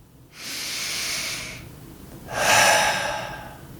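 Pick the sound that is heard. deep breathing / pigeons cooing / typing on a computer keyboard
deep breathing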